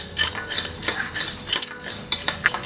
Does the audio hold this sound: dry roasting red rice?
yes